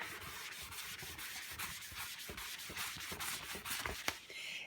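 Rag or cloth rubbing stain off a wooden clock surface, a faint, close scrubbing hiss in quick repeated strokes with an uneven rhythm, heard alone.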